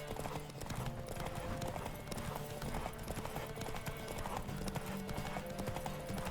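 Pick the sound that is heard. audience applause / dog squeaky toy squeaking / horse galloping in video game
horse galloping in video game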